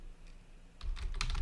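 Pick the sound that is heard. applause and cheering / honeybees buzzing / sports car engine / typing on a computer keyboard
typing on a computer keyboard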